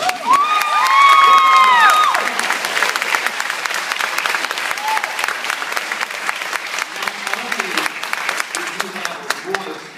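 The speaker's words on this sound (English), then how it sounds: "if you give him a round of applause." Loud applause with cheering and a few whoops fills a council chamber, dense clapping under a brief burst of voices early on, then sustained clapping that gradually thins out.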